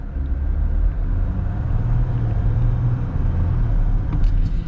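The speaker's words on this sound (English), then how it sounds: "Okay, so I'm just gonna go partial throttle." A 2022 Jeep Gladiator Willys EcoDiesel accelerates at partial throttle, its diesel engine giving a steady low rumble heard from inside the cab, loud and continuous with no talking.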